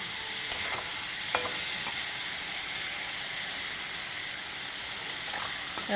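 Boiled cauliflower and potato sauté in a pan with cumin, chilli and turmeric powder, salt and a little water, making a constant hissing sizzle with occasional light stirring clicks and no voices.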